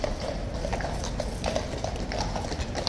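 Hooves of a King's Guard horse clip-clop on pavement in a steady walking rhythm, close and distinct over a busy crowd hum.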